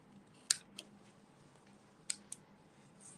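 Scissors trimming the page ends of a handmade book: two or three faint, sharp snips spread over a few quiet seconds, close by with a low room hum underneath.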